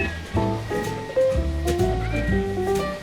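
A toy shark sounds a cat meow, a short series of clear, tonal electronic mews with rising and falling pitch, close up and fairly loud.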